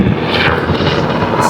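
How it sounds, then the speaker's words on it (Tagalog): Helicopter flying overhead above a rooftop, a loud, steady rotor and engine roar that fills the whole stretch without letup. "May helicopter po."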